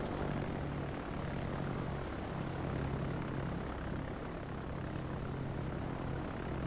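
A squadron of propeller aircraft flies in a video game, giving a steady, continuous engine drone that stays close and loud for the whole stretch with no talking over it.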